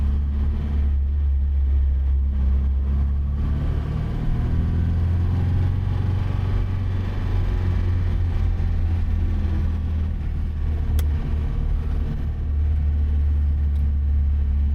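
An MG car drives on a race circuit at an MG festival, a steady low engine drone and road rumble heard from inside the car, continuous and fairly loud with slight swells in pitch and no speech.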